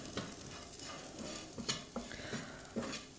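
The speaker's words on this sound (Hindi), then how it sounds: "मैगी मसाला हमें लास्ट में डालना है और इसको अच्छे से भून लेना है" Food being stir-roasted with Maggi masala in a pan, with quiet repeated spatula scrapes and taps against the metal over a soft background sizzle.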